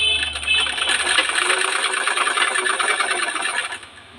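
A sewing machine stitches a dart on a blouse front in one steady, close whirring run that fades out near the end.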